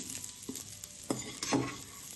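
Edible gum (dink) roasting in a pan for laddu, a soft sizzle with a few brief scrapes of stirring, close and fairly quiet.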